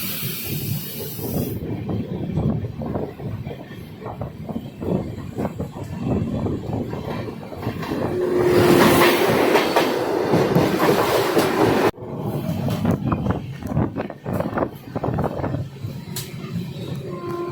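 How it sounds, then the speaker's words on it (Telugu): A Bhubaneswar–Chennai superfast express train rolls along the tracks near track works, a loud continuous rumble with rhythmic wheel clatter that swells to a rushing peak midway and then rumbles on. "ఇక్కడ నుంచి మన ట్రైన్ కొడతాడు"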